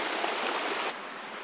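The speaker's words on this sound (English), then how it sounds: "streams keep bubbling" A stream bubbles and rushes through a Canary Island laurel forest, a dense continuous wash of water that drops abruptly to a quieter level partway through, with no voices.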